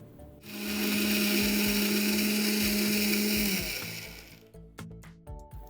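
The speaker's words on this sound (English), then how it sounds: "Let's grind this lightly." A blender grinds toasted dry spices for Thai green curry paste in a loud, close, steady whirring burst of about three seconds, then winds down, followed by clattering handling noises.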